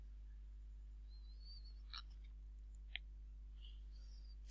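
A few faint, sparse computer mouse clicks while working in Kubla Cubed 2019 CAD software, spaced apart against a quiet, humming background.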